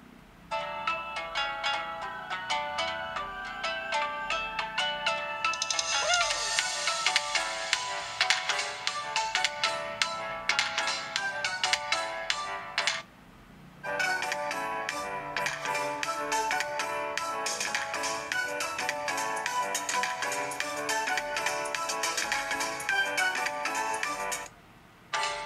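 A phone ringtone plays loudly through Oppo A9 (2020) and Samsung A50s speakers, a bright repeating melody that cuts off briefly midway and then resumes.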